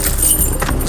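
A bunch of keys jangles up close during an urban exploration of an abandoned place, a brief loud metallic rattle lasting under a second.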